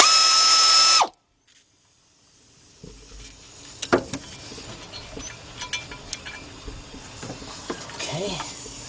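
A ratchet works the pulley bolts loose on the 5.7 engine of a 1977 Buick LeSabre, giving a series of quiet clicks and metallic ticks after a brief silence. The clicks come in uneven bursts close to the listener.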